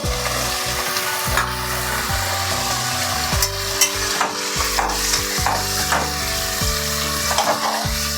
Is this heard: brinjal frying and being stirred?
yes